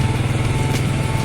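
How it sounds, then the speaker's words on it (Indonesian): Many motorcycles at a reservoir fishing spot in Lombok produce a continuous close engine rumble with fast throbbing pulses, steady and loud throughout. "Oh, ini yang banyak motor."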